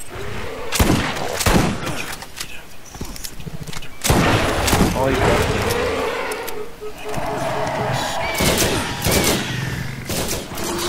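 Borderlands co-op gunfire: repeated loud shots and booming impacts hit in irregular bursts, with busy game noise around them and a player talking over the action.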